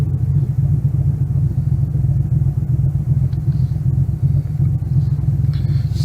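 Chevrolet Camaro engine heard from inside the cabin while driving, a steady loud low rumble and drone that continues throughout with no pauses.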